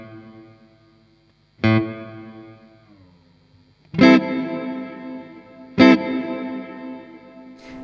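Electric guitar chords played through a Strymon Cloudburst ambient reverb pedal with the decay set low, three strummed hits whose ringing tails fade fairly quickly, loud and close with no talking.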